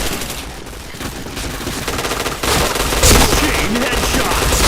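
Rapid automatic gunfire in the shooter video game Point Blank, loud and dense bursts of rattling shots running continuously from start to end.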